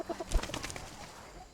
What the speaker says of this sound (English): I am going to have a chat with the chickens.